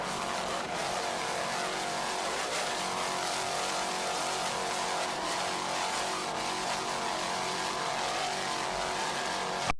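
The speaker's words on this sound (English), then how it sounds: "Island Runner powered by two 750 horsepower Stotler racing engines." Offshore racing powerboat with twin 750 horsepower Stotler racing engines, a loud, steady, continuous roar that stays dense and unbroken throughout, with no talk over it.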